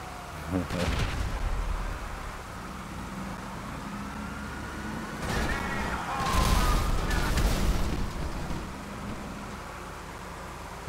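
Turret gunfire from a vehicle in Grand Theft Auto V, bursts of firing under a steady rumbling engine bed, loudest around the middle of the stretch, with a voice speaking over it.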